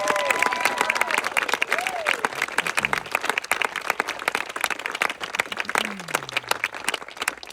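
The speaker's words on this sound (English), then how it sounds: "Can we get a round of applause for Tina?" A crowd claps enthusiastically, many hands patting in quick irregular bursts, with a few scattered voices and whoops rising through the applause.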